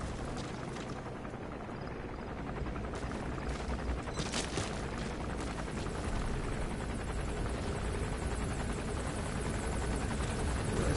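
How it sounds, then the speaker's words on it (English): Gunship helicopter in the Metal Gear Solid V video game, a dense loud rotor thrum with bursts of gunfire crackling through, continuous and close. "The gunship!"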